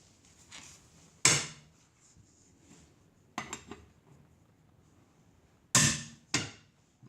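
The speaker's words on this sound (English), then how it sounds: "we're going to take our socket and put it on the strong arm, and then we're going to start loosening the nuts off." Socket on a breaker bar cracking car wheel nuts loose during a tire change: four sharp metallic clanks and pops, spaced a second or two apart, with quiet gaps between.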